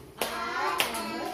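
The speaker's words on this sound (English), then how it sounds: "Clap your hands, everyone." Children in an ESL shapes lesson clap their hands, two short bursts of close clapping in a classroom.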